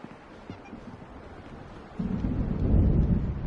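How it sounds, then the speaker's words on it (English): Thunderstorm in the video game Alan Wake: a low, distant rumble swells at about two seconds into a heavy, sustained roar of thunder, with faint rain-like noise underneath. "The storm is almost here."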